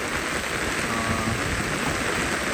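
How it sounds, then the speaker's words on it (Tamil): Heavy rain lashes down at a roadside during a windy storm, a dense, continuous hiss of falling water with a rough, blustery undertone, steady throughout. "நல்லா காத்தடிச்சிருக்குது இப்போ மழை வந்து கன மழையாக போய் இருந்தால்"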